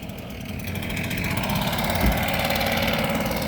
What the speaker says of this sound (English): Oh, leaf blower.